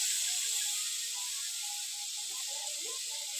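Water poured into a hot pan of sautéed vegetables for a raw-mango fish curry gives a loud, steady sizzling hiss that fills the whole moment, with faint bubbling underneath.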